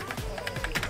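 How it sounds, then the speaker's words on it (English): Rapid clacking keystrokes on a loud computer keyboard, close and continuous for about a second with no talking. "my keyboard is so loud"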